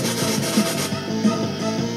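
A steady, harsh rasping buzz from a chainsaw attack in Final Fantasy VI pulses in a regular rhythm, loud and continuous throughout.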